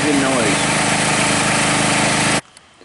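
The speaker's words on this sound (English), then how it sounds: "If you can hear me over the engine noise." A four-wheeler engine runs loud and close on a rural driveway, a steady buzzing drone that cuts off abruptly near the end, leaving quiet.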